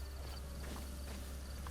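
Horse hooves clip-clop faintly in Zelda: Breath of the Wild, a quiet, quick patter of a few steps over a low, steady ambient hum.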